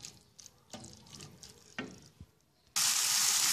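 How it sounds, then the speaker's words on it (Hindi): Chicken mince dropped into hot oil in a pan: a few soft clatters and scrapes, then a sudden loud, steady hiss of sizzling that runs to the end, with no voices. "अब इसके अंदर मैं ये चिकन का कीमा डालूंगी और इसको कलर चेंज होने तक इसको मैं पकाऊंगी।"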